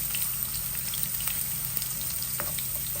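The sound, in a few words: garlic cloves frying in a pan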